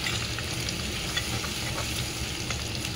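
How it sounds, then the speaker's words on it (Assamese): Ginger and garlic fry in hot oil in a pan, giving a dense, steady close-up sizzle with faint crackles and no pauses; nobody speaks. "এতিয়া তেল দিলোঁ, তেল গৰম হ'লে আদা দিলোঁ, তাৰপিছতে নহৰু দিলোঁ"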